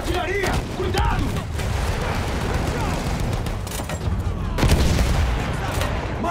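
Battlefield 1 campaign combat with booming artillery fire and gunfire in a dense, continuous barrage, with a heavier blast near the end, while voices talk over the noise.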